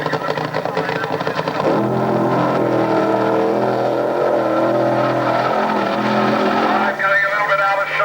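A Donovan-engined Vauxhall funny car making a drag racing run at Wroughton in the mid-1970s, a loud, sustained engine roar that swells and shifts pitch, with a commentator's voice faintly mixed in.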